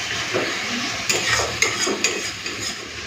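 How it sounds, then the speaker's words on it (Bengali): Spice paste being fried down with a splash of water in a pan for an elephant yam and shrimp curry, moderate sizzle under a few distinct spatula clinks and scrapes against the metal. "জল দিয়ে দিয়ে মশলাটাকে কষে নেবো"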